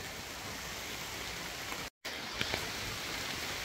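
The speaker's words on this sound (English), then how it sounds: "it started downpouring" Heavy rain in a downpour makes a dense, even hiss, distant and fairly soft. A few sharper drop taps stand out and there is a momentary dropout in the middle.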